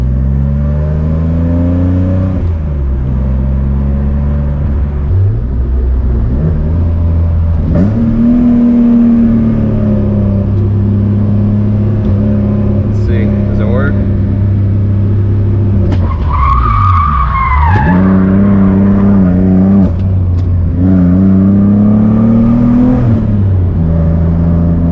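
BMW E46 driving hard at night, its engine revving up and down through gears with rising and falling pitch, brief tire skids and squeals, loud and close throughout with no talking.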